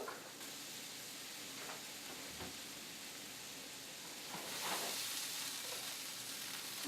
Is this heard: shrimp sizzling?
yes